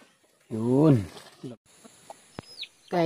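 Farm chickens cluck close by in a few short bursts, with a voice speaking briefly between the calls.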